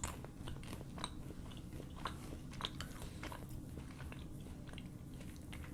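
Close, quiet chewing of a Bertie Bott's jelly bean, with soft irregular wet clicks and small crunches repeating steadily throughout.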